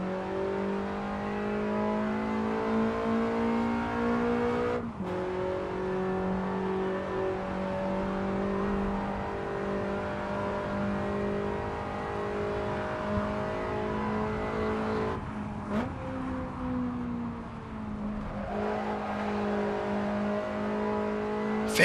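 A Lancia Delta S4 Stradale engine in Assetto Corsa, droning steadily at high revs as the car runs quickly through corners, with brief dips and shifts in pitch as it changes gear.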